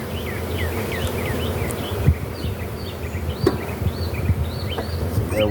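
Honeybees buzz in a dense, steady drone from an opened hive, close and continuous, with faint bird calls in the background and occasional soft knocks of handling.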